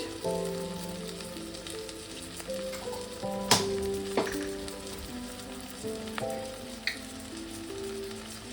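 Cumin and chilli powder frying in a pan for a traditional prawn fritter curry give off a steady sizzle, with a few sharp crackles and pops standing out near and loud throughout.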